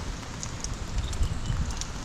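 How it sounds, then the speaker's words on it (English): Rain from Tropical Storm Nicholas falls steadily in Houston, Texas, a soft, even patter with scattered drops, fairly faint and heard alone. "it's raining still, and it hasn't stopped yet"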